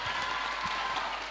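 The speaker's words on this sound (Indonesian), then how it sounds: "Tepuk tangan ya" A workshop audience applauds briefly, a soft, dense wash of many hands clapping at a distance for just over a second.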